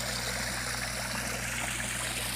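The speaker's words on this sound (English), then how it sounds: "So now the waterfall's flowing closer to what it normally is." A backyard pool's rock waterfall pours in a steady, close, continuous rush of falling water, loud and unbroken with no voices over it.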